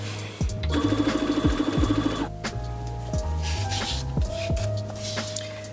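A sewing machine runs a straight stitch while a dress is sewn, its needle tapping rapidly in a steady close whir for a couple of seconds, then slowing into softer intermittent stitching.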